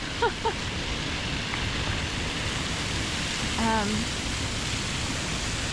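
Water fountains in Philadelphia rush with a broad, continuous splashing roar, heard outdoors with brief bits of distant voices over the steady spray.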